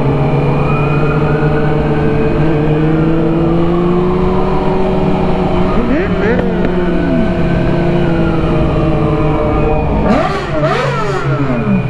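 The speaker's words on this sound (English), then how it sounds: "That fire truck's behind us." A fire truck siren wails behind a loud group of motorcycles riding through Dallas, the engines droning steadily throughout while rising and falling siren sweeps cut through twice, near the middle and again toward the end.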